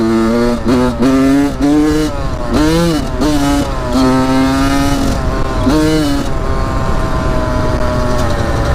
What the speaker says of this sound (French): vous allez mettre des petits coups d'accélération assez franches